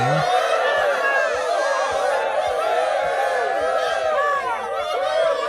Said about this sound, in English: I think I've got like a cheering thing